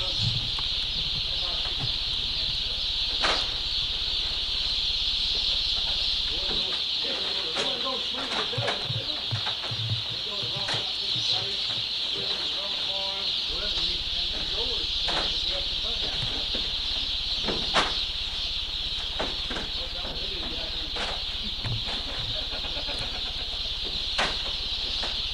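A huge flock of around twenty thousand chickens fills a barn with continuous clucking and chatter, with occasional sharper calls and wing flaps over a constant background hum.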